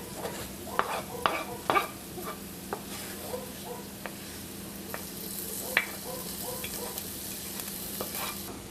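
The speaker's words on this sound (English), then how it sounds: "add my onions, shallot, and garlic that we sauteed previously" Sautéed onions, shallot and garlic sizzle and fry in a pan while being stirred for a lemon caper sauce, a steady close crackle with occasional clinks of a utensil against the pan, and no voices.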